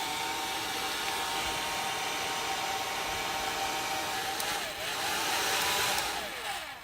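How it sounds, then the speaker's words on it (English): Hair dryer running steadily on its first setting, a continuous loud broadband whoosh with a slight dip and swell near the end, no voices. "how far away I'm going to keep the hair dryer"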